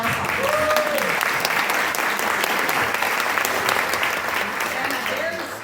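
An audience at a theater applauds the sponsors before a cake auction and show, a steady roar of many hands clapping close and loud, with a voice briefly heard over it.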